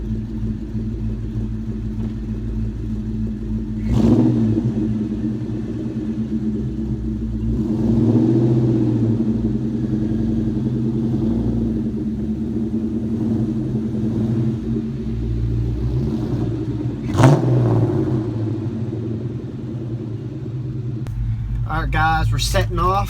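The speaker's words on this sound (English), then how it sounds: "Alright guys, we're setting off on the Mustang." A cammed 2004 Ford Mustang GT V8 rumbles steadily while driving, with a deep, continuous low drone that swells in a few brief revs, heard fairly close throughout.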